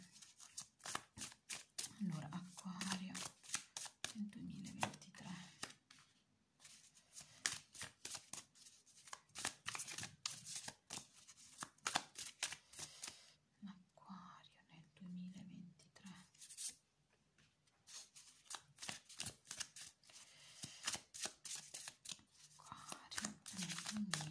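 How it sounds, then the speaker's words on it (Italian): Tarot cards shuffled and drawn by hand during a reading, with soft papery riffles and slides repeating through the clip under intermittent nearby speech. "vedere che le carte ve le estraggo in diretta"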